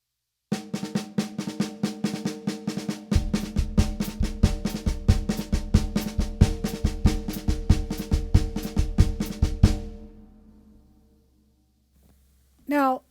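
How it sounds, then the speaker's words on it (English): Samba sticking played on a snare drum, part of a drum set: a rapid, steady stream of strokes that thickens after a few seconds, then stops and rings out into near silence with a brief sound at the very end. "If you bring that sticking over to the snare drum,"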